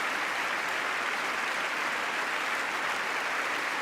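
Sustained applause fills a congressional chamber during a State of the Union address, a dense, even wash of many hands clapping at a steady level with no pauses.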